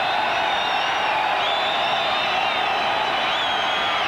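A small but loud football crowd at the Superdome cheers steadily in the fourth quarter, a dense continuous roar with whoops rising and falling and no break.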